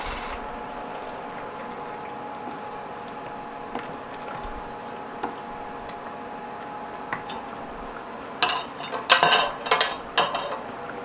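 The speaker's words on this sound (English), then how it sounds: "now I'm adding more tomato sauce" Tomato sauce goes into a pot of vegan chilli with soft wet squelches and light clinks of a utensil against the pot, a low kitchen hum beneath, then a burst of louder scraping and clattering near the end.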